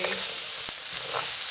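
Seafood sizzling and searing in a hot pan for paella, a steady loud hiss of frying with a light stir or tap partway through and no talking.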